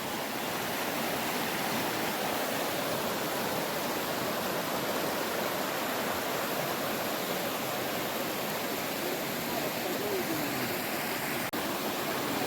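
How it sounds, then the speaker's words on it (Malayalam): Clear stream water rushes and gurgles steadily and evenly at Pooyamkutty, Kuttampuzha, a continuous moderate wash with no voices. "വെള്ളം നല്ല തെളി വെള്ളത്തിലാണ് പോകുന്നത്"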